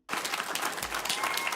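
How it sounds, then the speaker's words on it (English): Studio audience applause in an episode of The Office, a dense burst of clapping that starts abruptly and holds steady and loud throughout, with a faint murmur of the crowd beneath. "Giving yourself a round of applause here is so insane"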